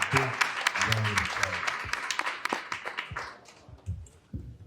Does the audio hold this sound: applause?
yes